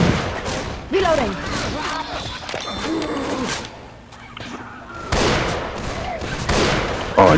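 Rapid bursts of gunfire from Left 4 Dead 2 crackle in dense clusters with a lull in the middle, loud and close, mixed with players talking over the shooting.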